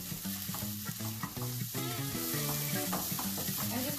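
Sabudana khichdi with cilantro and lime juice being stirred in a hot pan, a continuous sizzle and fry under scraping stirs, with steady tonal music playing over the cooking sounds.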